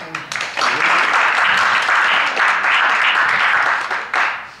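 An audience applauds the public service union at an awards gathering: dense, sustained clapping from many hands fills the room close by, holding steady for several seconds before thinning near the end.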